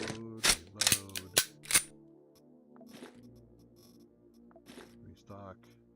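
Weapon reload in the game Quasimorph: a quick burst of four or five sharp mechanical clicks and clacks near the start, followed by quieter game tones and faint later clicks.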